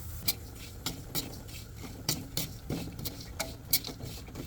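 Peanuts, pumpkin seeds and white sesame dry-roasting in a pan, with a faint spoon scraping and stirring in irregular strokes and soft light rattles of the seeds, quiet and close with no talking.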